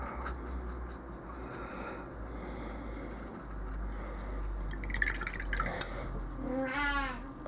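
Water is poured or dripped in while painting a Warhammer miniature of a Khorne lord, a faint trickling and dripping over steady low room hum, followed by a brief cat meow near the end.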